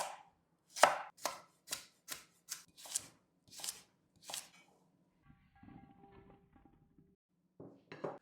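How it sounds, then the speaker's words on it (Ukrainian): A knife chops carrots crisply on a cutting board, about ten quick sharp strikes in a steady rhythm, close up, then a soft rustle and two more cuts. "І тепер нарізаю ось такими шматочками."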